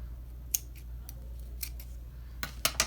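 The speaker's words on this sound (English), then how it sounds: "So I'm going to cut all of the excess off." Scissors snip off excess string on a handmade birthday banner, a few sharp close cuts spaced apart and then a quick pair near the end, over a low background hum.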